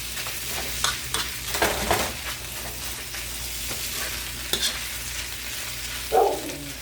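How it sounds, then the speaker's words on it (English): Rice being broken up and stir-fried in an oiled pan for fried rice, a continuous low sizzle with repeated scraping and tapping of a spatula, a louder clatter near the end, no talk. "right now I'm just mainly trying to break up the rice"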